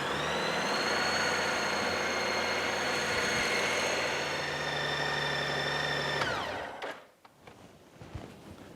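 A Honda Goldwing GL1800 motorcycle engine idles steadily close by with a low, even hum, then shuts off abruptly near the end, leaving faint clatter.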